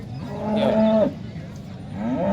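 A cow lets out a loud, close, drawn-out moo at the Modnimb cattle market, followed by a second, lower moo starting near the end.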